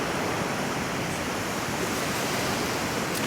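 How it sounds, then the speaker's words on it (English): Ocean waves rush steadily onto the shore, a dense continuous wash of surf that stays loud and close throughout with no voices. "the ocean's coming in, saying hello too"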